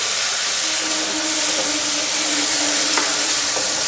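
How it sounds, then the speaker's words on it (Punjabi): One finely chopped medium onion fries in hot oil in a pan, giving a loud, even sizzle with a brief clink of a utensil near the end and no speech. "ਮੈਂ ਇੱਕ ਮੀਡੀਅਮ ਸਾਈਜ਼ ਦਾ ਪਿਆਜ਼ ਜਿਹਨੂੰ ਮੈਂ ਬਰੀਕ ਚੌਪ ਕਰ ਲਿਆ ਸੀ ਉਹ ਪਾ ਦਿੰਦੇ ਆ ਤੇ ਇਸ ਨੂੰ ਚੰਗੀ ਤਰ੍ਹਾਂ ਭੁੰਨਦੇ ਆ"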